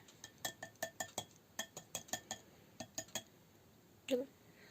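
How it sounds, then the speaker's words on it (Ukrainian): A wire whisk clinks and taps against the rim of a mixing bowl holding cocoa batter for a marbled cake made without butter or chocolate, a quick run of about a dozen close, bright metal-on-glass knocks, then a louder scrape near the end. "Забираємо звідси вінчик, він нам уже не потрібний."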